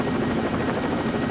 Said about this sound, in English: They have a combat chopper here!